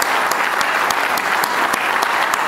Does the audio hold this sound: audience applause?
yes